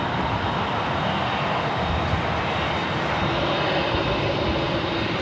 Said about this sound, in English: we just had a Sun Country 737-800 land on 25 left